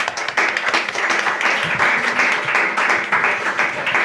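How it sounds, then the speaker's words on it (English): Steady applause from an audience, dense overlapping claps filling the whole stretch at an even, lively level. "So we can clap."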